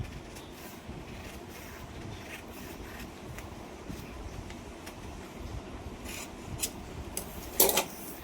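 Scissors cutting a sleeve shape out of fabric: a steady, close rasping and crunching of blades through cloth, with a few sharper snips near the end.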